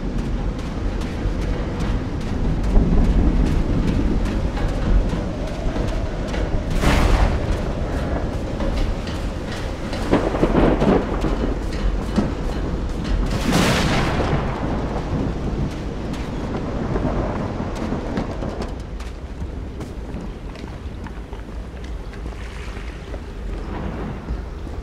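A thunderstorm rumbles in the video game Call of the Sea, with a continuous wash of rain and wind broken by several loud thunder cracks and rolling booms, no voices present.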